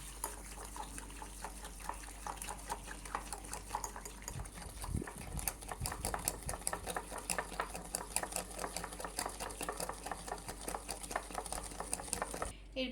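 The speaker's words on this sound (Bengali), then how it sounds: "পর 3টি উপকরণকে ভালো করে এখন মিক্স করে নিতে হবে।" Sugar and about a quarter cup of oil whisked together in a bowl for a cake batter, a rapid steady run of close scraping and sloshing strokes that picks up and continues for several seconds, with no talking.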